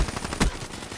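Gunfire in Call of Duty: Black Ops III multiplayer, a quick burst of sharp shots with one louder crack in the middle, loud and close.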